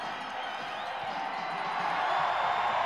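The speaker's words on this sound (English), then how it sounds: "Crowd loving every bit of that." Olympic men's moguls freestyle skiing crowd cheering steadily, a broad roar of spectators that swells slightly toward the end, heard at a distance without a break.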